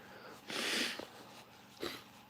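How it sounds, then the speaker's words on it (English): A nose is blown close up in two bursts, a long honking blast followed by a shorter snort, quiet between them. "I got blow my nose here."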